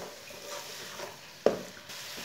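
Grated carrot halwa with sugar cooking in a pan, a low quiet sizzle with soft stirring and one sharp spoon knock against the pan midway.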